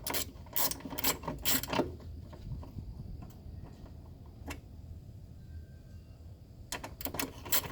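A ratchet wrench with a 13 mm socket loosens a battery bolt on a 200 Series Land Cruiser, giving bursts of quick close clicking, a quieter pause with faint handling, then another short run of clicks.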